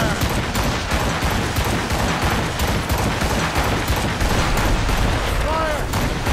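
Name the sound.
ship cannon fire in Assassin's Creed Rogue video game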